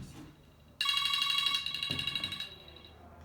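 A mobile phone rings with a bright electronic ringtone that cuts in abruptly and repeats in quick pulses for about two seconds. It stands out clearly against a quiet indoor background, and no one talks over it.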